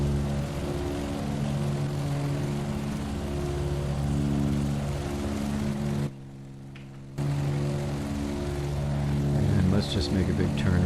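DC-3 engines hum at reduced throttle in a flight simulator game, a steady layered drone with a brief drop in level midway before resuming, continuous and even.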